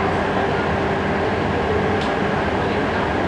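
An RER commuter train rolls along with a dense, continuous rumble and hiss that stays loud and close throughout, with no voices.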